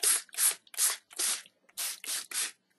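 Homemade black glimmer mist sprayed from a small pump bottle for scrapbooking: seven quick, close hissing bursts in an uneven rhythm, each separated by a short silence.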